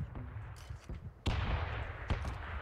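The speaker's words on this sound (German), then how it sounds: "Bei so viel Schüsse wie der braucht" Sharp gunshots from the game PUBG, a burst near the start and loud cracks around the middle and later, over a steady low rumble of game noise.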